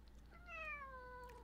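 A single drawn-out cat meow, clear and fairly close, rising then slowly falling in pitch over about a second, with no talking.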